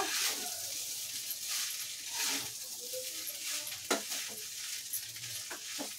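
Restaurant-style veg fried rice mixed with masala in a hot pan hisses with a steady sizzle, broken by close scrapes and taps of the spatula stirring and tossing the rice.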